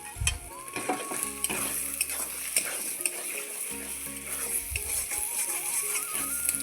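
Potato, eggplant and bori stir-fried with sugar for a palong shak ghonto sizzle steadily in a pan, with repeated scraping spatula strokes and occasional clanks against the metal close by.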